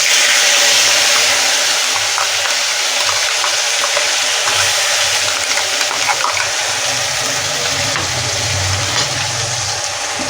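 Paste of onion, garlic, green chili and tomato sizzles loudly in hot oil, a steady dense crackle that stays constant throughout with slight stirring variations.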